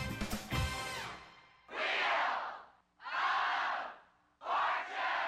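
A game show studio audience cheers and shouts in three loud, swelling bursts with short pauses between them, following an opening of music and announcer-style sound.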